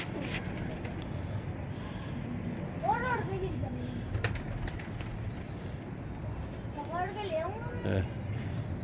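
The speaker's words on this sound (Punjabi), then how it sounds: "ਲੈ ਜੀ ਦੋਸਤੋ ਵਾਕਈ ਯਾਰ ਕਬੂਤਰ ਹੈ" A pigeon gives a couple of soft, rolling coos, faint and close, among fluttery rustling and background chatter from people nearby.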